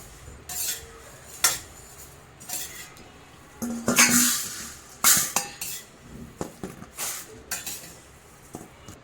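Roasted coriander seeds are scraped from a hot pan into a bowl in a home kitchen, with close metallic clinks, spoon scrapes and a loud rattling pour partway through, and no talking.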